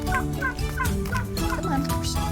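Young turkeys in a pen gobble and chirp in a steady, busy chorus, several birds calling over one another at close range with no pauses.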